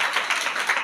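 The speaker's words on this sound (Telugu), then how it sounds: "గట్టిగా చప్పట్లు." A congregation at a church sermon claps loudly and steadily, a dense rhythmic wash of many hands close by with no talk over it.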